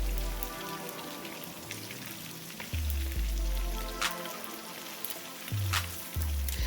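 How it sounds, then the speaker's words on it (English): Fish frying in oil in a pan for a Malaysian sambal, a steady crackling sizzle with scattered sharp pops and spatters, close by and moderately loud, with no talk. "Fry both sides for at least 2 to 3 minutes or until it's as crispy as you like."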